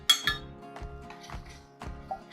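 A utensil clinks and scrapes in a pan of sun-dried tomatoes and full-fat coconut milk, a few sharp metallic knocks spaced about half a second apart with thick liquid swishing between them.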